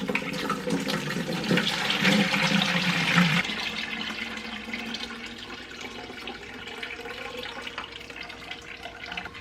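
Elderberry and strawberry ferment poured and strained through a colander, a steady rushing, splashing liquid flow that is heavier at first, then eases into a softer continuous trickle.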